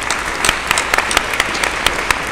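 Conference attendees applaud after a talk on standardizing the entourage effect. The dense, continuous clapping has sharp individual claps standing out, and no voices are heard.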